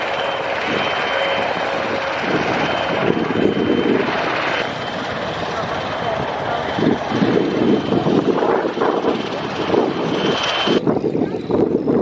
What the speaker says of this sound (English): Absolutely beautiful looking aircraft, really well restored